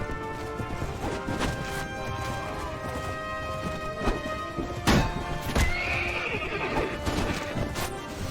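Horses in the Mount & Blade Warband video game, with the Floris mod, whinny loudly and clop their hooves in a busy, close mix, punctuated by sharp crashing impacts over a steady game soundtrack.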